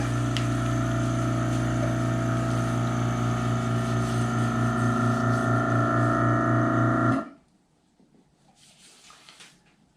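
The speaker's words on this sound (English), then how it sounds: "now we just turn the pump on" A vacuum pump hums steadily at close range while a guitar is being made, giving a constant motorized drone with a faint pulsing beneath it, then cuts off sharply and leaves near silence with faint rustling.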